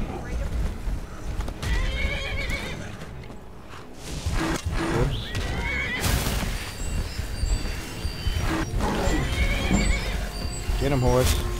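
A horse whinnies loudly and hooves thud nearby in the video game Skyrim during a fight with a troll, with speech and scattered combat noises around it.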